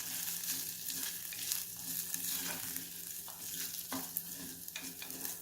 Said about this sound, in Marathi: तांदूळही छान आपल्याला परतून घ्यायचा आहे